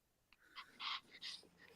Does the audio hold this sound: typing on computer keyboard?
no